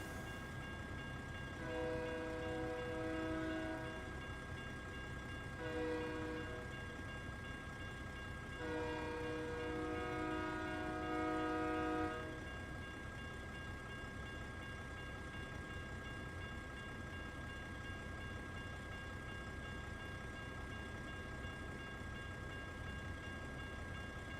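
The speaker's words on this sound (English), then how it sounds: "there is a train coming" In the American Truck Simulator game, a lumber train passes with several loud horn blasts in the first half, then a steady rolling rumble of wagons continues at a distance under constant engine hum.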